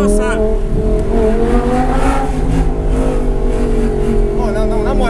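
An Audi R8 engine accelerates, a loud, close, continuous roar with rising and falling revs heard from inside the car, while people talk over it.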